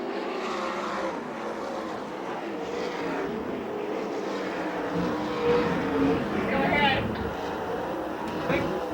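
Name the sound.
sprint cars racing on the last lap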